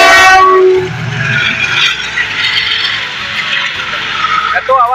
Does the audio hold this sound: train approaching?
yes